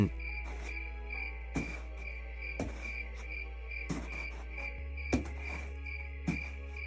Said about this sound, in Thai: มีเพียงเสียงจิ้งหรีดและลมพัดผ่านใบไม้